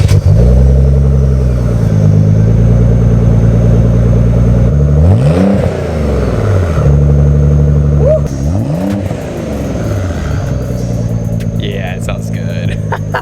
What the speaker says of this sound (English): the next clip is gonna be an insane exhaust startup